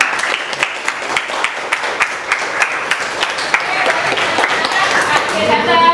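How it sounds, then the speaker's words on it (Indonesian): A school class applauds together, dense rapid clapping that holds steady and swells slightly toward the end, with a few voices mixed in. "Mari kita berikan aplaus untuk kita semua."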